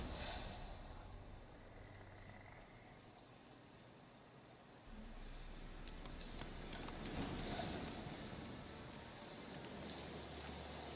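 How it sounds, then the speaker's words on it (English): Steady rain falls in a swampy setting in The Witcher video game. A continuous, even hiss of rainfall thickens slightly midway and stays dense and moderately loud to the end, with no talking. "Looks like rain."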